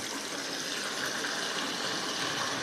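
Chicken pakoras fry in hot oil in a second round of frying, a steady loud hiss and sizzle with no talk.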